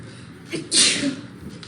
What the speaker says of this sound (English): Sorry, I was sneezing.